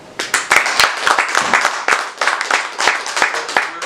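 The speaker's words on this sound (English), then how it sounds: "Another round of applause please for the Lord Mayor." Audience at an official foundation launch applauds the Lord Mayor: sustained, dense clapping from many hands, fairly close and steady, with sharper individual claps standing out.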